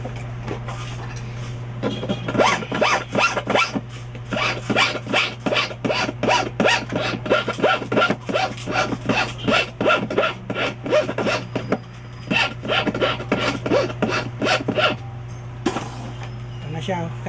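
Metal file rasping back and forth across the temple arm of an eyeglass frame at a repair shop in Quiapo, Manila, in steady rapid strokes close up, with a constant low hum underneath.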